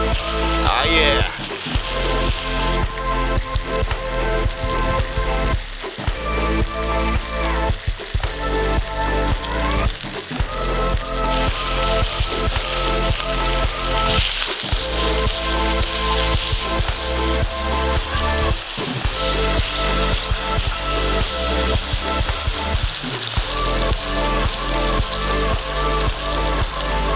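Steaks frying in a cast iron pan over a Swedish fire torch outdoors in winter, a loud, steady crackling sizzle throughout with occasional stirring clatter, under quiet intermittent talk.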